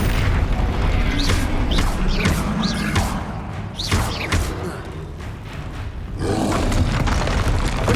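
Blasting-spell explosions in a magical fantasy video game, a fight against a troll: a sustained roaring barrage of booms, crashes and crackling impacts with whooshing bursts, dipping briefly before another loud eruption.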